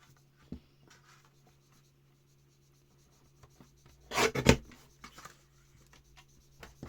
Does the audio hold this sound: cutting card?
yes